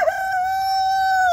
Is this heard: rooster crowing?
yes